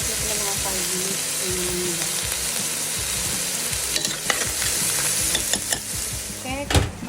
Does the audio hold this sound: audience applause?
no